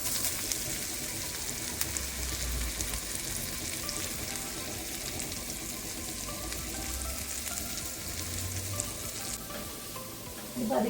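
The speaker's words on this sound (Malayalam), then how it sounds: "ഞാൻ സവാള, ഇഞ്ചി, പച്ചമുളക്, വെളുത്തുള്ളി, കറിവേപ്പില എല്ലാം ഒന്നിച്ചങ്ങ് ഇടുവാണ്." Onion, ginger, green chilli, garlic and curry leaves frying in melted butter for a mushroom masala, a dense, even sizzle like light rain, steady and close with faint stirring.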